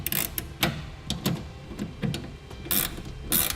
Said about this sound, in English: we can take our wrench and tighten it the rest of the way down